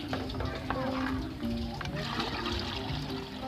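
Water pours steadily into a container, a continuous splashing gush that rises slightly in pitch as the vessel fills, with voices talking over it.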